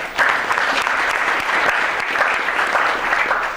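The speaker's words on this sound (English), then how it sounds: "Round of applause for Betty." Steady, even applause from a roomful of people fills the whole few seconds, a dense wash of clapping at constant loudness with no voices over it.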